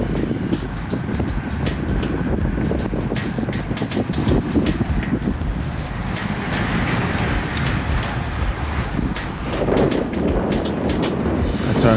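Strong wind buffets a microphone during an outdoor bike ride on a breezy day, giving a constant loud roar with gusty rumble throughout and no voices.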